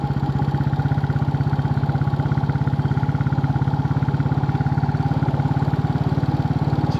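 A Royal Enfield Bullet 350 single-cylinder engine thumps in a steady, rapid, even rhythm while riding on a sunny day, loud and close with no talk.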